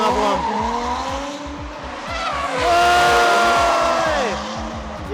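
Cars drift around Ebisu Circuit in Japan, their engines revving hard in repeated rising and falling bursts while tires squeal and screech. The cars sound moderately distant, with a brief voice heard under the noise.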